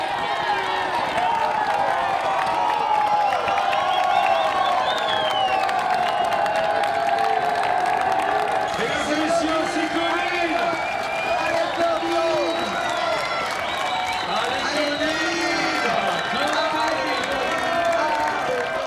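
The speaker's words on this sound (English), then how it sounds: "The whole of Chamonix will be cheering on finishers all through the night" A big crowd in Chamonix cheers and applauds a finishing trail runner at an ultra-trail race. The sound is a dense, continuous roar with whoops and clapping, and voices talk over it throughout.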